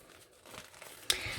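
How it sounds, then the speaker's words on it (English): Small plastic bags crinkle quietly while embroidery floss is tucked away. Soft rustling builds to one sharper crinkle near the end, close and faint with no talking. "So I'm gonna save all of this floss and put it in these small plastic bags."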